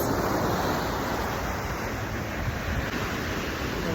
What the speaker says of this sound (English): Here come the waves.